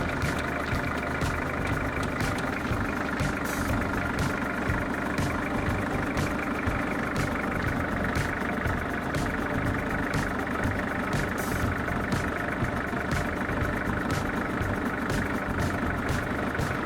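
A Citroën XM left abandoned since 2023 sits with its engine running, a steady, continuous idle with an even rhythmic pulse, close and fairly loud, with no talking.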